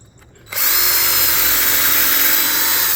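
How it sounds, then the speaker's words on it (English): After a short quiet moment, a power drill whirs up and runs at a steady high-pitched whine, close and loud, drilling a small hole in the wood of a deck railing. "I'm going to drill a little hole in the side here."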